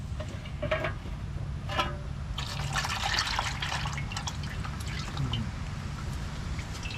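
Transmission fluid from a 2011 Toyota Sienna falls into a drain pan in a soft, steady trickle with scattered drips, faint and close, with no talking.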